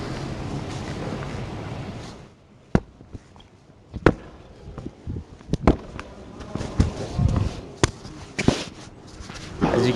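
A volleyball is volleyed during a class demonstration, giving a series of sharp, irregular slaps and thuds over light wind noise outdoors.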